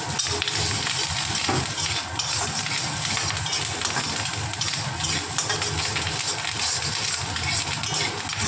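Jackfruit sizzles and crackles steadily in a hot pan as chana dal goes in, a dense, close, even frying hiss that runs the whole time with no voices.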